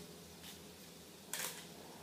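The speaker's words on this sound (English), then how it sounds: "Now I'm going to drop my shutter to 1/25 of a second." A camera shutter firing at a slow 1/25 second exposure, heard as two faint mechanical clicks, the second sharper and louder, over steady room hum.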